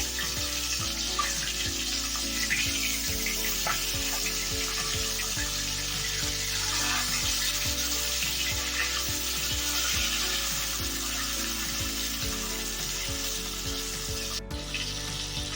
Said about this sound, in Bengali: তেল গরম হয়ে গেছে এখন আমি ফেসা মাছের পিসগুলো ভেজে নেব